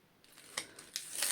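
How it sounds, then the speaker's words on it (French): Two large strips of tape are peeled away in short ripping pulls, a few crisp tearing bursts close by, growing louder toward the end with no talking. "je vais venir enlever mes deux grosses bandes de scotch"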